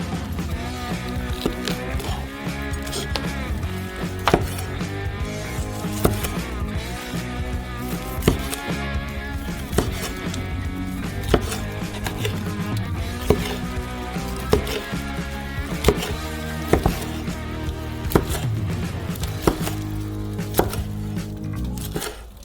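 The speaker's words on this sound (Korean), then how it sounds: "소시지도 아주 잘 됐네요. 잘라주세요." A knife chops through cooked sausage on a board for pizza topping in a steady run of close, crisp cuts, repeating at an even rhythm under a continuous background bed, with no speech.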